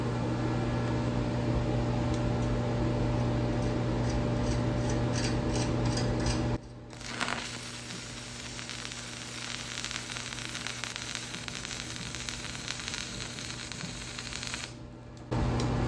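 A YesWelder 135 Pro stick welder burns a rod with a loud continuous crackling hiss under a steady electrical hum. The arc stops briefly partway through, then restarts and crackles on for several more seconds.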